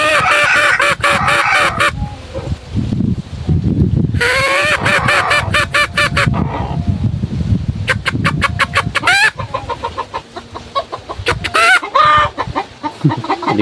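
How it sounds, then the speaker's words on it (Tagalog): Several pet roosters make a loud, close racket of clucks, squawks and harsh calls in overlapping bursts, with brief quieter gaps between the noisy stretches. "Diba nag-iingay yung aking mga tandang."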